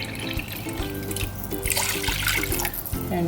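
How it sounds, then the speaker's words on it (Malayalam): Plain water poured steadily into a cooking pot for kuzhi mandhi rice, a continuous close splashing and gurgling stream with no voices. "പച്ചവെള്ളം എടുത്തിട്ട് ഇതിൻ്റെ കൂടെ ഒഴിച്ചു കൊടുക്കണം"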